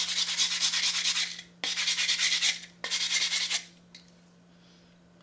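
Metal file rasping back and forth across a lightweight tent stake in three loud, steady bursts of strokes, each about a second long, followed by near-silence with faint scraping; a low steady hum runs underneath throughout.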